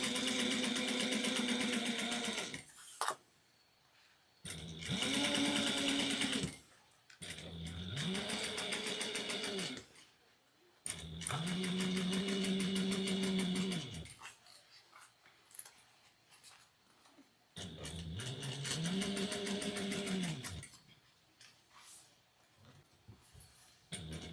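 A sewing machine top stitches a triangular shoulder bag in several close bursts of whirring, each a few seconds long, separated by short pauses.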